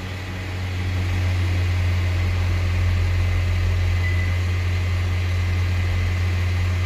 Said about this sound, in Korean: 지금 엔진이 돌고 있는 상황이에요.